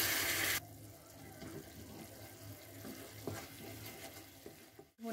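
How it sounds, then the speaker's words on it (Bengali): Lentil-boiling water poured into cooking masala for paneer tarka, a brief loud splash at the start, then a softer bubbling and sizzling simmer close by. "ডাল সিদ্ধ করা জলটাই ব্যবহার করছি।"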